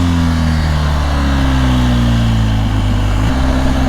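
A BMW R 1250 GS Adventure motorcycle being ridden, its engine droning with a low steady hum whose pitch slowly shifts and drops sharply near the end, beneath constant wind noise.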